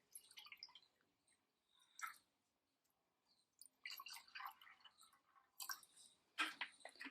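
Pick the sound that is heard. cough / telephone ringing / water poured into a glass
water poured into a glass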